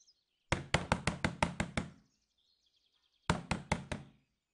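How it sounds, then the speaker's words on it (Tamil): Knocking on a house door: a quick run of about eight sharp raps, a pause, then four more, close and loud in an otherwise quiet room. "சுதா கதவு தர நாங்கெல்லாம் வந்தாச்சு"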